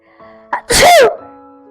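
A storyteller's voice imitates a big, loud sneeze for a tiger in a children's jungle tale: a quick intake of breath followed by a single forceful, drawn-out achoo.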